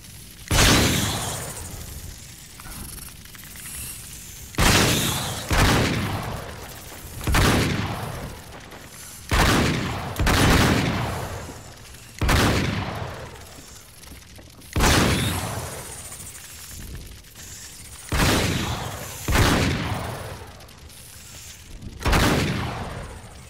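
Gunfire in the video game Uncharted 3: Drake's Deception, a series of about ten loud, sharp bursts recurring every two seconds or so, each decaying into echoing rumble, with little speech.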